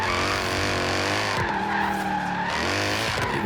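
Tires on a Mercedes-engined Jaguar XE-S squeal and skid through donuts in Forza Horizon 3, a loud, sustained screech over a droning engine, broken by a couple of brief shifts in pitch as the car swings around.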